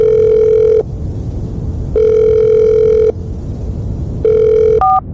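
A phone call's ringback tone purrs loud and close in repeated long steady bursts with short gaps, heard alone before the line connects.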